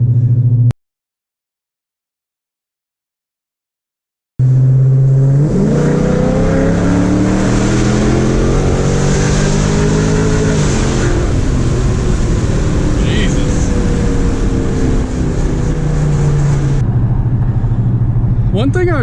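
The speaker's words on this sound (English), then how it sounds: "I'll try to give it a little bit of gas though." A Dodge Charger R/T running an E85 tune accelerates onto a street, its engine note rising in steady pulls after a brief silence, loud and close from inside the car.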